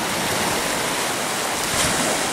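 Sea waves roll onto a beach at Lyubimovka near Sevastopol, a steady broadband wash of surf with wind noise over the microphone, fairly close and continuous, with no voices.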